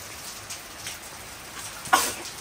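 Rain falls steadily on a rural farm plot, a soft continuous patter with occasional sharper drops hitting a surface, fairly quiet and without voices.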